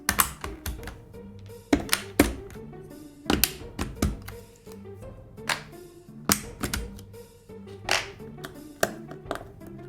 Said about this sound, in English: the first step is to pull out all the keycaps